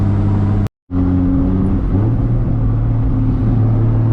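A 1000-plus horsepower MK4 Toyota Supra drives with a loud, deep engine drone, cutting out briefly near the start before resuming and rising as the revs shift.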